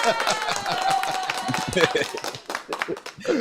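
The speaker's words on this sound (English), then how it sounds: "Give a round of applause to my guy, Ocey Phillips, for tuning in once again." A burst of applause sound effect plays, with rapid scattered claps under a voice talking during a live online business show.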